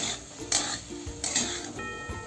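A spoon scrapes and clinks against a pan while stirring potato curry, making a few distinct metallic knocks and a soft shuffling of the cooked potatoes in between.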